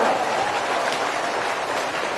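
Dense, continuous applause from a large crowd at an outdoor political rally in Bhind-Gohad, a loud even roar of many hands clapping with no break.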